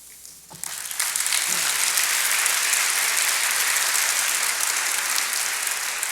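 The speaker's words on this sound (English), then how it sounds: "Oh, good, she gets applause." A large audience at a NASA Human Research Program workshop breaks into applause for the new chief scientist, a brief voice at first, then steady, full, sustained clapping filling the hall.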